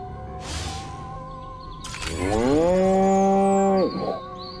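A cow moos in the video game Destroy All Humans!, one long loud bellow with a rising onset and steady tone, preceded by a brief crash, over a low game ambience.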